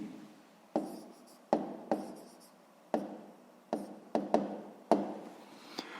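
A pen writes on paper during a sixth-grade maths exercise, giving a series of about ten distinct scratchy strokes and taps at irregular intervals, close and fairly quiet against a silent background.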